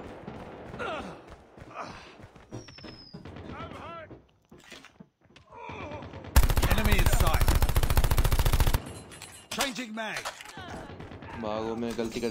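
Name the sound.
gunfire in the video game Call of Duty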